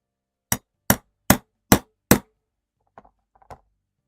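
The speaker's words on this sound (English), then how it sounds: "I swear I'm gonna scare someone off with the hammer ASMR" Five loud, evenly spaced hammer blows on leather during leatherworking ring out close and alone, followed by a couple of faint, softer knocks.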